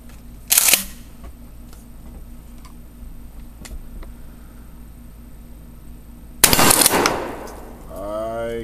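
Two loud 12 gauge shotgun blasts fired with bird shot at steel armor, one early and one several seconds later, each a sharp crack with a brief ringing tail in an outdoor range.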